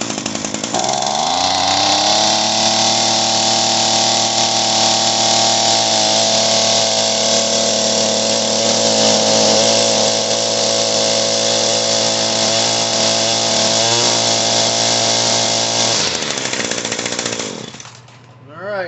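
An Echo PAS 225 engine, fitted with a new carburetor and coil, runs loud and close at a steady high pitch, shifts speed briefly, then drops toward idle and blips at the end.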